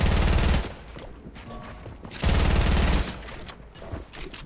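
Loud automatic gunfire from a competitive online shooter match, two heavy bursts of rapid fire around a quieter stretch of scattered shots and game noise, with no talking over it.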